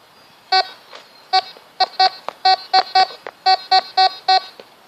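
A Compadre metal detector passes over a large gold chain, giving a series of about fourteen short, clear electronic beeps in uneven bursts, loud and close with no talking.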